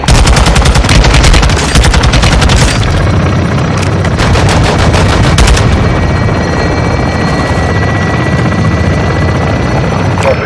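Gunfire in the Modern Warfare 2 campaign: loud sustained rapid-fire bursts over a heavy helicopter rotor thrum, the shooting stopping partway and leaving the aircraft drone.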